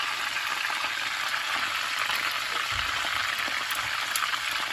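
Squid stuffed with filling fries in a pan, giving a dense, continuous sizzle that stays steady and fairly loud, with occasional faint low clunks and no talking.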